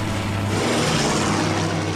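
World War I propeller-driven fighter planes, German Fokkers and SPADs in a dogfight, give a steady, loud droning engine roar that holds continuously with no voices.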